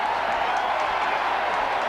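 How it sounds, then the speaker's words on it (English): A rugby league stadium crowd roars in a steady, dense wash of noise that fills the short moment without a break. "the crowd roars as Nagus"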